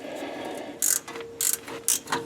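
A 9/16 socket wrench is handled under a classic Ford Mustang's 8-inch rear differential during removal, making three short bursts of sharp ratcheting clicks close by, with quieter metallic handling between them.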